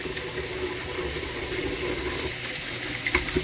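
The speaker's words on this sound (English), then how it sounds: "Wash my hands." Steady running water from a kitchen tap splashes over hands being washed during cooking, a continuous close hiss with small splashes near the end.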